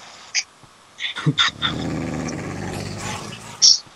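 A dog growls in a Minecraft game, several short growling bursts in the first second and a half, then a sustained low rumble running to the end, with a sharp higher cry near the close.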